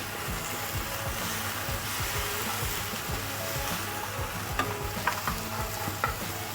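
Koi fish and spices, including red chilli powder, being stir-fried in oil in a pan, a steady close sizzle with repeated scraping strokes of a spatula and a few sharper clinks near the end.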